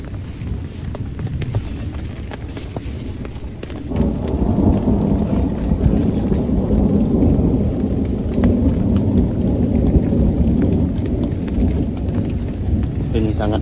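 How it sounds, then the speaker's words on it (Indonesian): Thunder rumbles over steady rain at a campsite, starting as scattered drumming drops and building after a few seconds into heavier, continuous downpour with low rolling thunder underneath. "Geluduk-geluduk masih ada ya."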